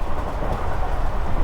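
The Hazara Express rumbles along the track at speed, a dense continuous low roar of wheels and carriage noise heard steadily from inside the train.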